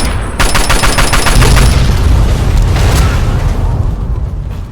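Rapid gunfire in Fallout 3 rattles off in a fast burst, then heavy booming explosions roll out as the shot cars blow up, loud and close with a long rumbling tail.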